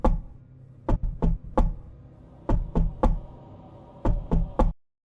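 Heavy knocking on a front door, a horror story sound effect, comes in four separate bursts of two or three loud, close raps each, with short silent gaps between them, then falls silent at the end.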